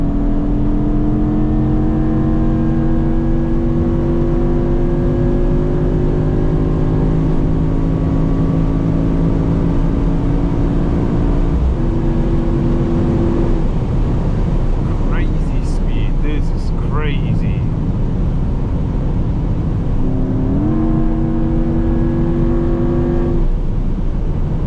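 A Mercedes-AMG GT63 hybrid V8 drones loudly from inside the car during a night run on a German autobahn, with rising engine tones and a shift, while someone talks over it.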